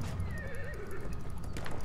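A horse in the Battlefield 1 video game neighs with a wavering whinny over fast galloping hoofbeats, close and loud, brief and without talk.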